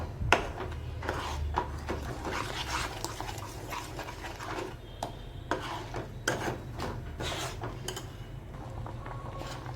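A spoon stirs salted palak paneer curry in a pan, scraping and rubbing with repeated clinks against the metal, over a low, steady simmering background.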